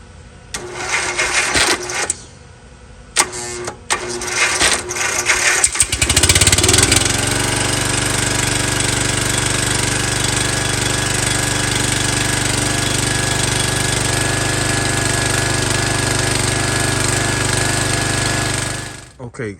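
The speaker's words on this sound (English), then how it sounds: "Let's start this thing up." An MTD Yard Bug riding mower engine turns over and catches, then settles into a steady, loud, continuous run for about twelve seconds before shutting off; brief clanks and voices precede the start.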